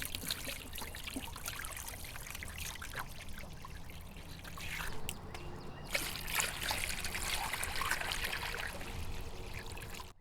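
Water trickles softly and steadily into a seedling tray as it is filled by hand without a hose, with faint splashing and no speech.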